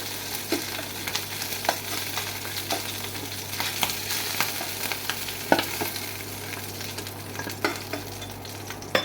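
Chicken feet fry in oil, giving a steady low sizzle with scattered scrapes and light clicks of a utensil lifting pieces from the pan, moderately close and without talk.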